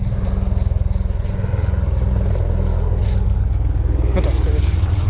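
Two Black Hawk helicopters fly overhead near a fishing spot, their low rotor thump pulsing loud and steady throughout, with brief splashing and handling noise near the end.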